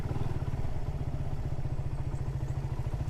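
A motorcycle with spikeless tyres rides along a slippery mountain road, its engine putting out a steady low, pulsing drone close by, with some clatter and no talking.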